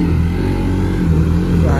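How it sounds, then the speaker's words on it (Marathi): An auto rickshaw engine, wet from a wash, running after being coaxed to start; a loud, steady, close mechanical drone with a slight rise near the end. "गाडी आता निघली, चालू झाली वरी."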